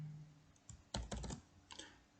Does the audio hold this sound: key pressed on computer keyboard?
yes